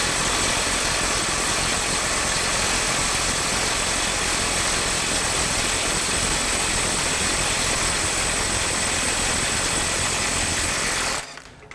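A RYOBI HP mid-torque impact wrench running in mode 2 at 300 foot-pounds, a loud continuous rapid hammering buzz with a high whine held steady for about eleven seconds before cutting off abruptly.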